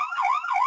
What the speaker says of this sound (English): you hear that siren going off? That's on the mobile phone that you can't see